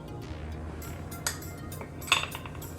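A utensil mixes soy sauce and sesame seed oil into rice in a bowl, giving a few light scrapes and a sharp clink near the end, close and quiet.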